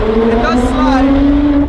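A Lotus Exige Sport 380 sports car slides out of a corner with its engine droning loudly and steadily, and tyres scrub briefly partway through, while someone talks over it.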